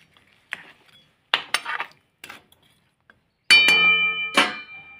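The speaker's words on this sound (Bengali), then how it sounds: "এবার একটু নাড়াচাড়া দিয়ে" Scattered clinks and scrapes of a metal utensil against a pan as fish paste is stirred, with a ringing metallic knock near the end, close and otherwise quiet.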